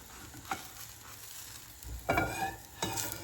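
Stuffed seeded garlic flatbread cooks in a pan with a quiet, soft sizzle, broken by a few brief scrapes and thumps as it is moved or flipped.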